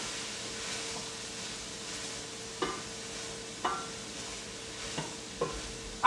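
Asparagus and peas stirred and warmed in a pan, a faint steady sizzle with a low hum beneath it and a few sharp utensil clinks against the pan spaced out over the stretch.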